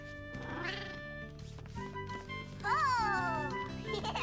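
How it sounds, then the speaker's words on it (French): A cartoon cat meows in several bright, rising and falling cries, loud and close, with children's voices and music around it. "Bravo, tu es un bon chat de traîneau, Gilbert."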